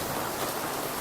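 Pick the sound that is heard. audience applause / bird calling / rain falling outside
rain falling outside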